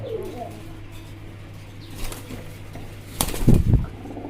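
Domestic pigeons for sale in a cage, with a brief close flutter of flapping wings near the end over a low steady hum, preceded by faint cooing.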